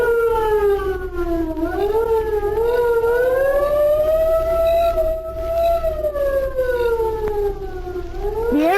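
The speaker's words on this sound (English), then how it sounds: "the distant air raid siren sounded" An air raid siren wails in a long rising and falling tone, distant but clearly audible, sustained throughout with no talking.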